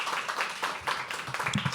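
An audience at a live poetry open mic claps for a performer, giving a short burst of steady, moderately loud applause from many hands.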